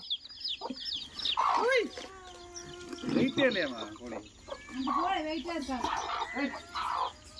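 Coloured chicken chicks chirp and peep in quick, bright bursts up close, mixed with clucking, while people talk over them.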